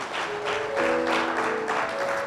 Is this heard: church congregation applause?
yes